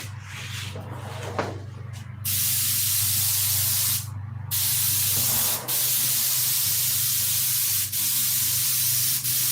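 Spray gun applying extra coats of coating to a nose section, a hissing spray in several bursts broken by brief pauses, steady and close over a low background hum.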